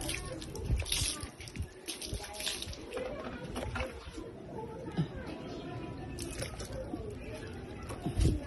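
Water poured out for a flock of white Leghorn chickens, a soft splashing and trickling under nearby voices, with occasional birds and louder knocks near the start and end.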